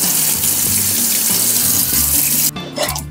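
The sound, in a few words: running tap water rinsing black and white film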